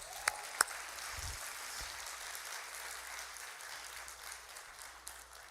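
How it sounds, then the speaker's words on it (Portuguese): Church congregation applauding during a Wednesday service, a soft, distant wash of clapping from the crowd with a couple of sharper claps near the start. "Você podia aplaudir o Senhor por isso."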